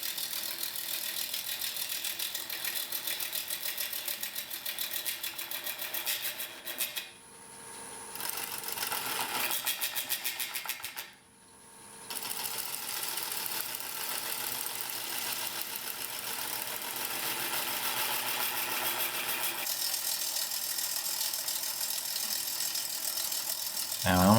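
Wood lathe with a turning tool cutting a dry pine segmented ring, making a continuous buzzing, chattering scrape that briefly drops away twice before resuming steadily.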